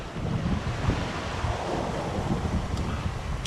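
A southwest wind of around 20 knots at sea off the easternmost point of Long Island blows as a loud, steady roar with rushing water and gusty buffeting against the microphone.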